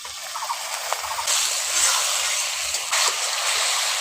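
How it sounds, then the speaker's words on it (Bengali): A little water is poured into spice masala while it cooks, giving a hissing, sputtering sizzle that swells in bursts over the steady frying noise. "মশলাটা কষতে কষতে একটু অল্প করে জল দিয়ে দিচ্ছি"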